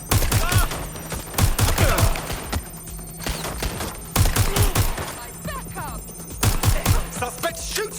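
Bursts of automatic gunfire in the video game Watch Dogs Legion, three rapid volleys of close, sharp shots separated by brief pauses, with faint game voices and effects underneath.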